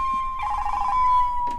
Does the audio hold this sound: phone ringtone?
yes